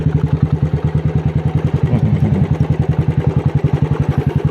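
A motorcycle engine runs close and loud in a steady, rapid, even thump with no change in pace, heard alone without talking.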